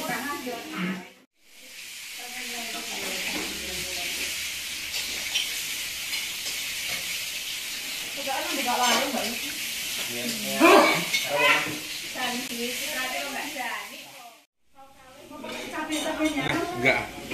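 Bakmi noodles frying and being stirred in a pan, with steady sizzling hiss and pots and pans clattering, while people talk throughout.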